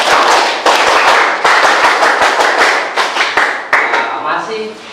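A school class performs the rhythmic Scout clap, tepuk pramuka, in patterned bursts of sharp, loud hand claps with brief pauses between groups, ending with a voice speaking.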